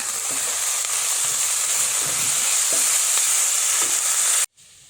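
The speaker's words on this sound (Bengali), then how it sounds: "আমি মশলাটা ভালো করে কষায় নেব" Ground spice paste of ginger, garlic, salt and cumin frying in oil in a pan, a loud steady sizzle and hiss with faint stirring scrapes, cutting off abruptly near the end.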